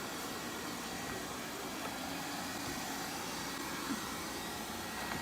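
An OKP Life K2 robot vacuum cleaner runs with a steady, even whooshing hiss and motor whir, constant in level throughout with no speech.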